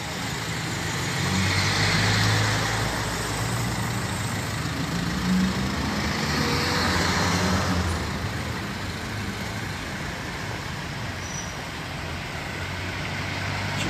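Idling cars, trucks and buses sit in a city-street traffic jam in Karamürsel, Turkey, with a low, steady engine drone and occasional slight revs, fairly close and unbroken.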